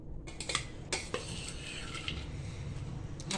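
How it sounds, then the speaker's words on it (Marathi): A spoon stirs wet bhel, an Indian street snack, in a bowl, making quiet, close clinks and scrapes in an irregular rhythm. "तुम्ही ते परत एकदा आपण मिक्स करायचं भेळीमध्ये"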